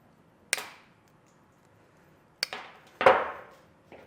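Wire cutters snipping the connector ends off the red and black wires of an air suspension compressor on a 2019 Ford, three sharp close clicks spaced apart in a quiet room.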